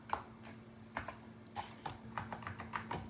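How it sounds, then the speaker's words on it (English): One-handed typing on a Macintosh SE/30 computer keyboard produces sparse, irregular clicking keystrokes with uneven pauses. The keys are close and fairly quiet over a steady electrical hum. "Sorry, I'm typing with one hand."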